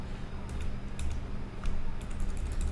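Fast, uneven keystrokes on a computer keyboard while a Cisco router configuration is entered, a steady clatter of close, soft clicks with no talking.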